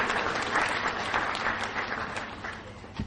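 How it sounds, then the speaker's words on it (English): Sustained applause from an awards ceremony audience, dense and steady clapping across the whole stretch with a brief louder burst near the end. "Give them all that big round of applause,"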